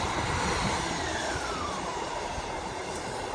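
A Class 158 diesel train pulls away from platform 5 at Peterborough station, giving a steady loud rumble and engine drone throughout with no voices.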